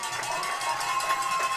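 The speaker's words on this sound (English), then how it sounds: "Home crowd loving that." Home crowd cheering at a high school football game between Cardington-Lincoln and Mount Gilead, a steady loud roar of many voices throughout.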